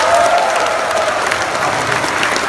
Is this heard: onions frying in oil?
no